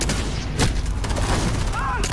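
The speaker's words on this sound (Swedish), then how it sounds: "var kom skottet ifrån" Gunfire in Call of Duty Modern Warfare multiplayer, a dense, loud burst of shots and blasts over steady roaring background noise, with a brief louder crack partway through.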